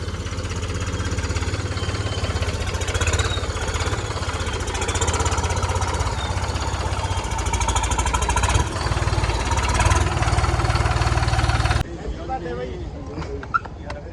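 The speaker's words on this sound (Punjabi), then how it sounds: "ਪਲਾਨ ਬਣ ਗਿਆ ਟਰੈਕਟਰ ਦਾ" A tractor engine idles close by, a steady loud low rumble that runs unbroken for most of the stretch before cutting off abruptly near the end, with people talking over it.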